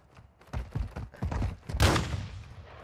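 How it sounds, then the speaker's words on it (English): Gunfire in Call of Duty Warzone 2.0 DMZ mode: an irregular run of thumping shots and impacts building to a louder, brighter crack near the middle, then a fading tail, fairly close. "Who's shooting at me?"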